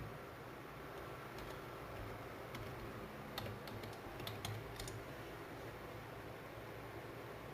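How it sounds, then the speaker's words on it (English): Faint, quick clicks of typing on a computer keyboard come in a short burst under a constant loud hiss of background noise. "Let's type that in."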